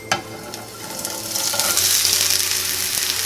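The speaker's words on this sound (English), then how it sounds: "and fry the other side." Kanafeh frying in a pan, a steady close sizzle that swells louder after a sharp clatter near the start, with no voices.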